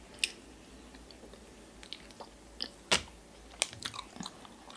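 Close, soft chewing of taro-flavoured mochi ice cream, with quiet moist squishes and a few sharper bites and crunchy clicks scattered over a low background hiss.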